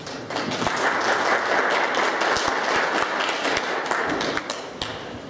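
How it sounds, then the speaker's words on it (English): An audience applauds board members at a luncheon meeting. Sustained clapping fills the room for several seconds, dense and even, with a few sharper claps and thumps standing out before it tapers slightly. "we'd like to give you all a round of applause for this year"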